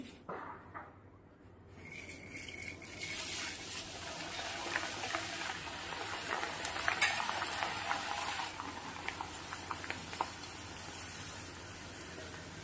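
Beaten rice (poha) dropped into hot oil for chivda, giving a quiet, bubbling fry that rises after a couple of seconds, with scattered light scrapes and clicks from a metal strainer.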